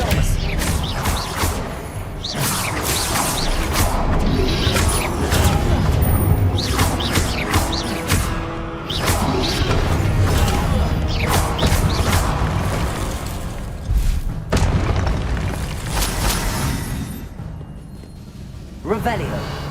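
Spell combat in the Hogwarts Legacy video game brings a dense run of explosive blasts, crashes and thuds under continuous game music, with a voice casting spells throughout.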